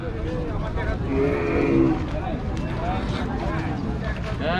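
A cow lows at a busy Rajshahi cattle market before Eid sacrifice, with a drawn-out moo rising through nearby talk and crowd noise.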